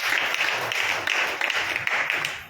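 A church congregation claps together in Jesus' name during a Hindi sermon. The applause is dense and sustained, an even wash of many hands close by that fills the whole moment with small irregular peaks.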